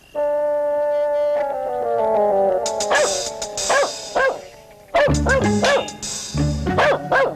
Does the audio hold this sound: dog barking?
yes